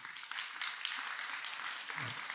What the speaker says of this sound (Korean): 아니 박수를 치려면 제대로 치고